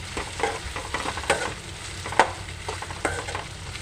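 Chicken liver with turmeric stirred in a pan for a liver fry, a quiet sizzle under repeated scraping spoon strokes with irregular clinks and scuffs against the pan.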